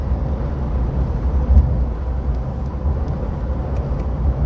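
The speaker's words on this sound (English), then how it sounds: "The road is making the truck bounce" A truck travelling over a bumpy road, heard as a loud, continuous low engine-and-road rumble with a brief jolt partway through and no voices.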